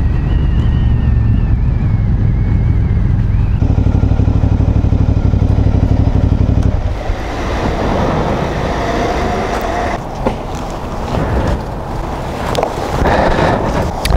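A motorcycle on a long-distance road trip across Europe drones steadily at speed, its engine hum buried under heavy rushing wind noise that takes over in the second half.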